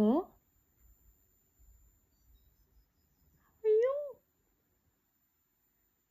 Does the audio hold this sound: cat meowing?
yes